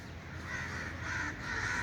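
Wild crows circle overhead, cawing in a loud, continuous chorus of harsh, overlapping calls that swell slightly partway through.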